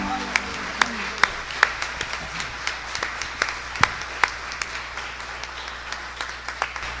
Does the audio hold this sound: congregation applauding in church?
yes